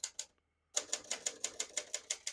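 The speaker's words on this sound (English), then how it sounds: "Very quiet compared to most typewriters." Keys striking on a 1972 Hermes 3000 portable typewriter, with a short burst, a pause, then a steady run of about ten crisp, evenly spaced clacks, close and fairly soft, with no voices.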